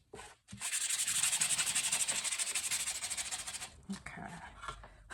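Close, rhythmic rasping of sandpaper rubbed back and forth across the grain of wood in rapid strokes for a few seconds, then a brief pause and lighter scraping.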